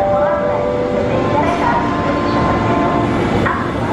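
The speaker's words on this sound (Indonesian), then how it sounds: "TM 7022 diberangkatkan dari Jakarta Kota" A KRL commuter electric train, TM 7022, pulls out of Jakarta Kota station with steady rolling rumble, rising motor whine and a sharp clank or two, under a voice.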